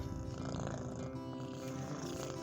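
A cat purrs steadily and close, a continuous low rumbling vibration that stays even throughout with no talking over it.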